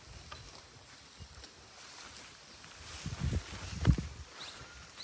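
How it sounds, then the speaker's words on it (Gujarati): A faint, steady wash of water flows along a rural stream where buffaloes graze, with a few soft low thumps and a slightly louder swell near the end. "એક બાજુ પાણીનો ખળખળાટ અવાજ આવે છે"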